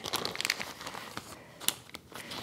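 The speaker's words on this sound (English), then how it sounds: "get a lot of the air out of this, squish it around to mix it" A plastic bag holding chicken wings and seasoning is squeezed and worked by hand, giving close, crackly crinkling in irregular bursts with short pauses between them.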